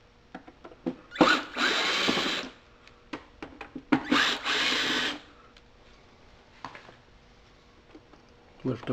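A power drill whirs in two bursts of about a second each, removing screws from the guard of a Bissell Pro Heat carpet cleaner during a pump replacement, with talk in between.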